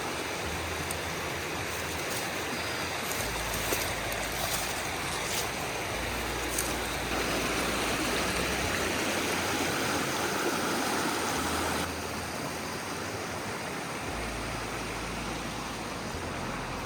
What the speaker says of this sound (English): I don't know if you can hear over the rush of the water